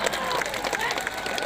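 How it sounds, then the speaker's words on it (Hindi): Crowd at a BJP joining rally in Ramnagar clapping steadily, a busy patter of many hands at moderate distance that runs beneath an amplified speaker's voice from the stage. "तालियां बजती रहना चाहिए अपनी"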